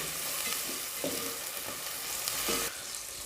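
Green chillies and mixed vegetables frying for pulao, a continuous close sizzle broken by periodic spoon stirs and scrapes against the pot, no talk.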